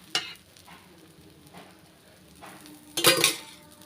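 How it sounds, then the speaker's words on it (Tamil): Light oil sizzling on a white sorghum adai dosa in a hot pan, a soft crackle with a brief clink at the start and a louder burst of sizzle near the end. "அது மேலே கொஞ்சமாக லைட்டாக எண்ணெய் ஊற்றிக்கிறேன்"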